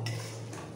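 Boiled banana flower is stirred in a pan with mutton fat, giving a brief metallic scrape and clink of a spoon against the pan, quiet and close.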